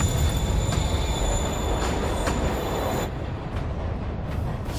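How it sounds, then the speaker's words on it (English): A moving train in the video game Marvel's Spider-Man, a steady loud rumble of rolling railcars with high metallic wheel squeal, continuous and close, slightly dulling near the end. "Train moving. Lee's getting away."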